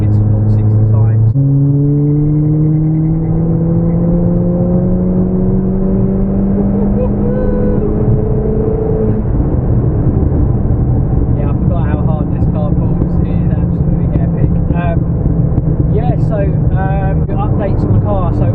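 A 350bhp Ford Fiesta ST accelerating hard in a 0-60 pull, loud engine note rising through the gears with a shift partway, heard from inside the car under a steady rumble, with a voice talking.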